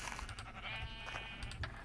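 Minecraft sheep bleating in the game, a wavering bleat sounding through busy in-game background noise and clatter.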